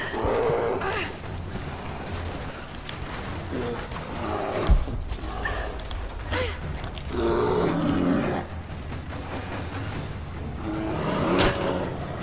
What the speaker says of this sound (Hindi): इस भालू को कैसे मारूं।